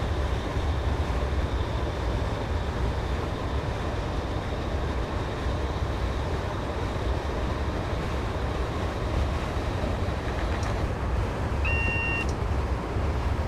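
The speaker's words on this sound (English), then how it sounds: "I'm going to idle the power and allow the train to coast." Class 320 electric train coasting with power idled in Train Simulator 2015, a steady continuous rumble and rolling noise throughout, with brief beeps near the end.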